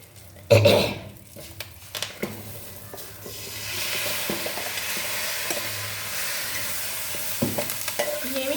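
Hot tempering poured onto chickpeas, a sharp burst of noise followed by a sustained sizzle with stirring scrapes, close at hand.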